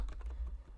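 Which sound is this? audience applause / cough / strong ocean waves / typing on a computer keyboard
typing on a computer keyboard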